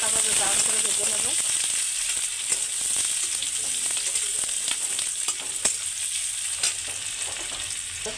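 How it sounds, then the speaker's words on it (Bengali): Onions with dried chillies fry in hot oil while being stirred for masala chana, giving a steady sizzle with scraping and clinking from the spoon, fairly close, and a voice talking faintly at times. "এবার একটু নাড়াচাড়া দিয়ে একটু হালকাভাবে ব্রাউন করে ভেজে নেব।"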